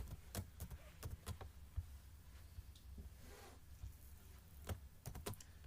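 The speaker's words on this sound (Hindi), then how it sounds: "शिफ्ट के साथ कोलन को प्रेस करोगे तो आएगा।" A computer keyboard is typed on with a few sharp, close keystrokes in quick bunches, then a pause and a couple more clicks, over a quiet low hum.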